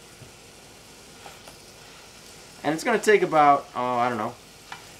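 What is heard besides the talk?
sausage patties sizzling in a pan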